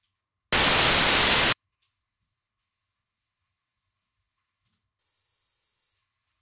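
One-second bursts of white noise, the first unfiltered and full, then after a quiet gap a second burst through a sharp bandpass FIR filter, leaving only a thin, bright high-pitched hiss.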